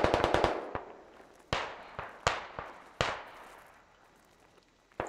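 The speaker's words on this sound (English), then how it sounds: "we're getting fucking mortared here" Mortar shells landing in the military shooter Squad on the Sumari Bala map, a rapid cluster of sharp cracks followed by several loud, spaced impacts with decaying rumbles, fairly close.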